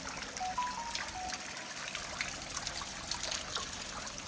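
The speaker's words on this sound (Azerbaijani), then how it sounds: "Həyətdə də belə bir şəlaləsi var." A small decorative waterfall in a house yard trickles and splashes continuously, a soft, steady flow of water heard from close range with faint background hum and no voices.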